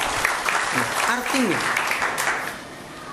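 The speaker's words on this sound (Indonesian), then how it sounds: "Tepuk tangan." An audience at a talk gives a short round of clapping, a dense burst that fades over a few seconds while someone speaks over it.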